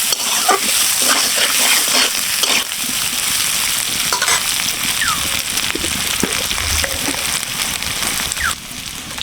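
Potatoes fry in a pan with a steady, dense sizzle and occasional stirring scrapes, loud and close throughout with no talking.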